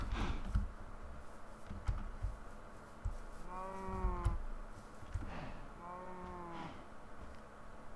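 Two drawn-out cow moos from Minecraft a few seconds apart, heard over a steady low background hum, with no talking.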